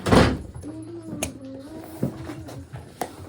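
A door pushed shut indoors, giving a solid thump near the start and a few lighter knocks and rattles afterward, with faint background noise and no talking.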